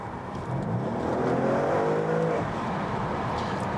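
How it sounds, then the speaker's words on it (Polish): A 2014 Audi RS6 Avant with a 4.0 V8 of 560 hp, set to Dynamic mode, has its exhaust build into a rising, throaty growl under acceleration before easing back, heard steadily from inside the car. "tak grają te rury wydechowe, że to się niesie kilka aut do przodu nawet"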